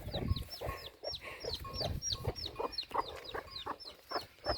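A hen clucks repeatedly while her single chick gives high, rapid peeps alongside, close by in a rural yard near woodland, with steady overlapping calls throughout.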